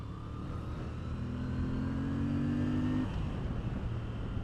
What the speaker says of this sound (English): when you combine it with the sound the engine's making